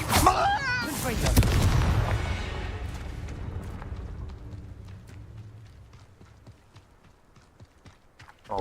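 Confringo blasting spell bursting in Hogwarts Legacy, a loud explosive boom with a rumbling tail that fades over several seconds, a voice speaking over the opening.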